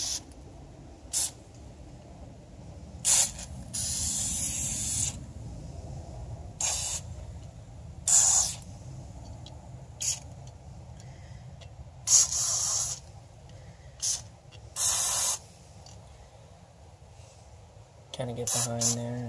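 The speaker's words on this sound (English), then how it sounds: "If they don't come off that easy, then I just use some penetrating oil." Penetrating oil sprayed onto front brake parts of a VW 2.5L from an aerosol can: about a dozen short hissing bursts of varying length, fairly close. They sound over a steady low background hum, and a clatter follows near the end.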